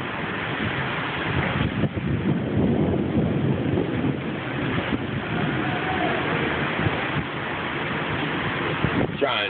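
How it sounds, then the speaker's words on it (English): Thunderstorm at Hunter Army Airfield with heavy rain pouring steadily and wind buffeting the microphone, a continuous dense roar throughout with low rumbling that suggests thunder beneath the downpour. "Like retardedly loud thunder."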